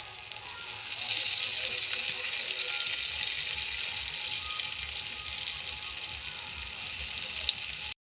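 Chopped onion and dried red chillies hit hot oil in a wok and sizzle loudly, a bright continuous frying hiss lasting several seconds with a faint tap near the end.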